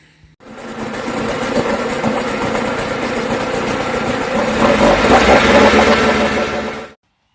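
A Mercury 40 hp jet outboard motor starts abruptly and settles into a steady, close idle, rising slightly in level before cutting off sharply.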